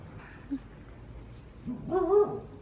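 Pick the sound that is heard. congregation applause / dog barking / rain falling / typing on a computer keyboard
dog barking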